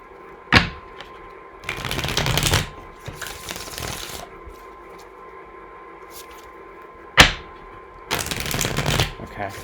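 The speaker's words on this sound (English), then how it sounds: "2 more shuffles and it's ready." A tarot deck is shuffled in several quick, crisp bursts of riffling cards, separated by sharp taps and quieter pauses, close to the listener with a faint background hum.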